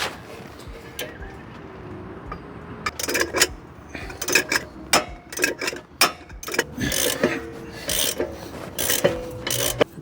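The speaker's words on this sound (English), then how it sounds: "Yes, I'm using the ratchet still." Ratchet clicking and rasping in short irregular bursts while loosening a bolt on the brakes of a 2022 Ford Ranger, close and fairly loud, with quiet gaps between strokes.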